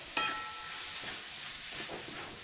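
Onion chutney with finely ground peanuts sautéing in a pan, a steady soft sizzle after a brief clank at the start, with faint stirring scrapes underneath.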